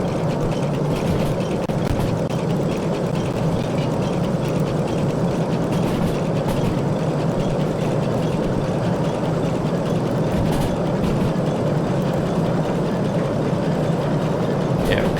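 A heavy steam train running in the video game Derail Valley, a loud, steady rumbling drone of engine and rolling wheels that holds constant throughout.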